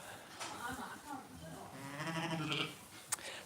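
Sheep bleating close by in a lambing shed, a ewe about to give birth, with a couple of short bleats mixed in among people talking nearby.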